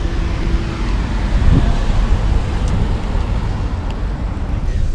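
A 2019 BMW 750i sedan with a twin-turbo V8 drives along, giving a steady low engine and road rumble with wind noise throughout, fairly loud and continuous, with no talk.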